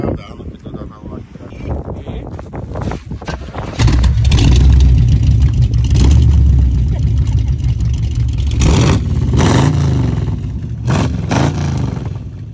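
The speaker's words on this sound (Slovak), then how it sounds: "Nič ma nepoteší viacej ako zvuk V8" A V8 car engine barks into a loud, deep revving roar after a quieter stretch with some voices, then holds a heavy rumble with further throttle blips, close and dominant.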